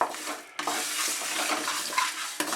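Spices for a Bengali kul (jujube) pickle frying and being stirred in a pan, a steady close sizzle with scraping strokes and a brief break near the start, no voices.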